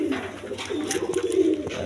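A pair of red pigeons nesting with their young coo softly in a low, steady murmur, with a few faint rustles and clicks nearby.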